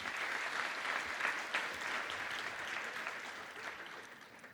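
A round of applause for a band at a university commerce graduation ceremony, sustained crowd clapping heard from a distance, fairly faint but continuous and even from start to finish.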